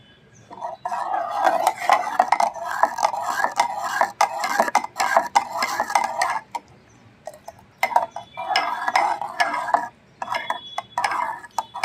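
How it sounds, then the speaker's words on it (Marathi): A spoon stirs buttermilk with chili and ginger in a pot on the stove as it comes to a boil, making rapid repeated clinks and scrapes against the metal in bursts with short pauses. "फक्त दही फाटू नये आपलं ताक म्हणून हलवायचं उकळी येईपर्यंत."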